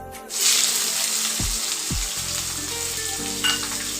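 Two chopped onions hit hot oil with whole cumin, bay leaf, cardamom, cloves, cinnamon and peppercorns, a loud close sizzle that runs throughout, with a couple of short stirring scrapes.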